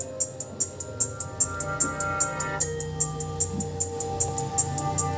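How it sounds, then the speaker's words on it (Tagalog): A Broadway BCS600 speaker plays a tweeter test track with a steady stream of sharp, bright high-pitched pulses repeating rhythmically over a faint low musical bed. The sound is loud and continuous throughout. "ito yung the ultimate tweeter test para sa pag soundcheck natin ng Broadway"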